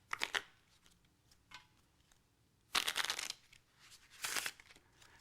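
A deck of playing cards being riffle shuffled up close, with several crisp bursts of rapid fluttering card riffles separated by short pauses, no talking.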